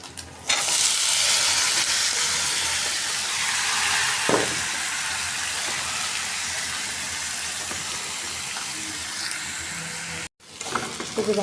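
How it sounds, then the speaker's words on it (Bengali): Vegetables fry with shrimp in a pan, giving a dense, even sizzle that runs almost throughout, broken by one brief stir and a short cut-out near the end. "ভাজা হয়ে গেছে, এখন সবজিগুলো দিয়ে দেবো।"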